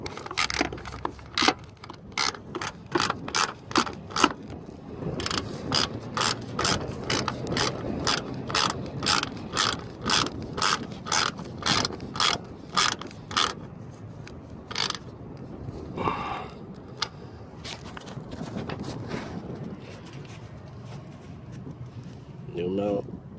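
Ratchet clicking rapidly and rhythmically while tightening 15mm bolts on a 2006 Impala SS strut mount, long runs of sharp close clicks with brief pauses and some mechanical clatter.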